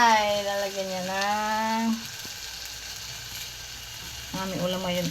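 A chicken dish with onion, tomato, garlic and ginger sizzles quietly in a pan, a low, even frying hiss between stretches where voices sound over it at the start and end.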